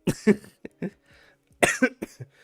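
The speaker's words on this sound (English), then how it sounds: "Yes, I am still coughing." Several harsh, close coughs in two bursts separated by a short pause, loud and dry, with no talking.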